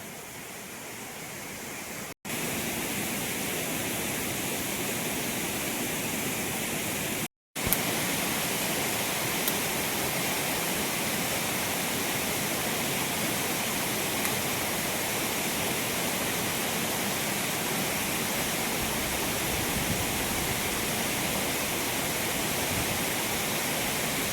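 Rushing water of a forest stream and waterfall heard from right beside it, a dense, loud, steady roar that fills the whole stretch, with one short dropout early on.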